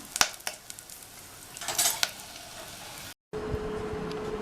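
Cashew nuts stirred and fried in a pan for a simple Tamil lunchbox dish, giving scattered scraping clicks and bursts of sizzle, then a steady frying hiss after a brief gap.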